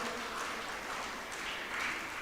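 A crowd at a school community day felicitation event at St. Mary's, Vellore, gives a round of applause. The clapping is a continuous, fairly quiet patter that swells slightly near the end, with no voices over it.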